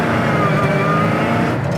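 A supercharged 1969 Chevy Nova hot rod accelerating, its engine giving a loud, close, steady roar that holds strong for under two seconds with no talk over it.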